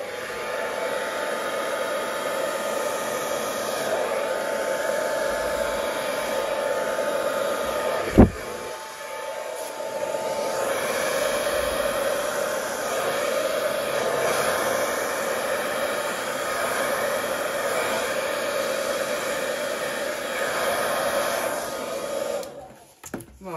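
A hair dryer blows steadily to spread wet paint outward from the centre, a continuous loud whooshing roar with one sharp knock partway through, before cutting off near the end.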